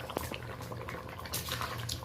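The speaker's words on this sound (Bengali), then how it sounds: "হয়ে গেছে, এখন ফুটুক" A pot of curry with potatoes and eggs bubbles on the stove, a soft continuous simmer of small pops and gurgles, close and fairly quiet.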